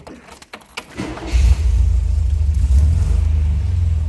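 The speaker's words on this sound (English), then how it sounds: "Let's go ahead and start this up and hear it run" A 1979 MG MGB engine starts: brief keys and clicks, a quick crank, then it catches into a deep, steady, close rumbling idle with small throttle swells.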